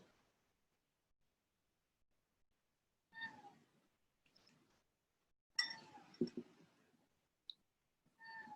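A cat meows indoors, with a few separate mewing calls spread through a mostly quiet stretch, moderately close, plus a couple of faint clicks.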